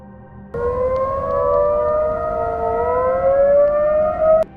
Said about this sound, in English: simultaneously activating every emergency siren in Dallas, Texas in the middle of the night